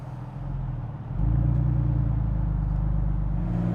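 A 2000 Porsche 911 Carrera Cabriolet (996) engine drones steadily from inside the cabin, its low rumble rising as it pulls harder and then holding at a strong, even level.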